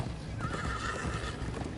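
A horse neighs in Minecraft Story Mode, giving one clear, drawn-out whinny over steady clip-clopping hooves while the horse is ridden at a gallop.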